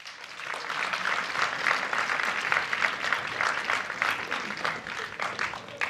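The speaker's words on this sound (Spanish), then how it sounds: "Damos un fuerte aplauso a Beatriz Trueba" An audience applauds a speaker being introduced at an arts and humanities talk, the clapping swelling quickly and holding as a dense, fairly loud wash for several seconds.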